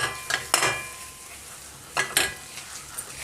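A thick date mixture cooks in a pan on a low flame under a soft, steady sizzle, broken by a few scraping stirs of a spoon against the pan, close and moderately loud, with no voices.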